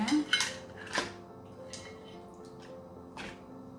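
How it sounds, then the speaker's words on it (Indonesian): Crab pieces and their juices are dropped into a pot of boiling butter sauce, giving a few clattering knocks against the metal pot near the start and another around the end, over a low steady bubbling. "kalau ini sudah mendidih, rasanya udah enak, kita masukkan kepitingnya ya."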